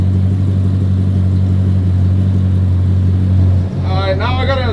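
Ford Mustang GT350R race car engine running on a dyno, a loud steady low drone that holds evenly before dipping briefly near the end, with a voice talking over the last second.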